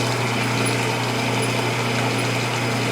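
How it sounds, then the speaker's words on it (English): Power drill boring 3/16 inch holes in a steel rail for a 1930s Craftsman bandsaw stand: a steady, close motor whine with a constant hum, unbroken and alone with no talking. "now I'm going to drill some 3/16 holes"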